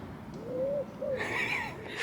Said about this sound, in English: The loudest thing is an owl or a pigeon